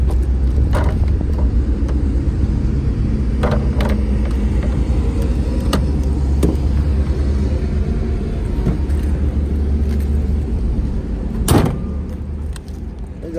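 A 2015 Mazda 2 sedan with a 1.5-litre automatic engine, heard from inside on a test drive: a steady low road and engine rumble with occasional faint clicks and knocks, no one speaking.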